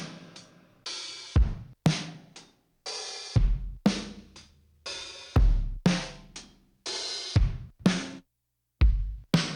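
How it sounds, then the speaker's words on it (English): Punchy, gritty drum hits from a vintage 12-bit sampler play back in a repeating pattern, each with sharp attacks and short decays, separated by brief silences. "that characteristic 12-bit sampler sound"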